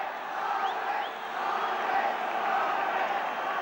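A large crowd at the 1980 All-Ireland Senior Hurling Final between Galway and Limerick cheers and roars in a steady, distant wash of noise that swells and holds throughout, with scattered whoops rising above it.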